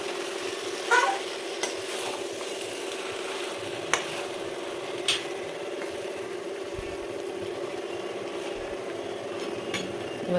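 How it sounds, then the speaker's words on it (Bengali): Mutton sautés in a pan for kosha, a continuous low sizzle broken by occasional spatula scrapes and light clinks against the pan, no talking. "এবার মাংসটার কষানো দেখা"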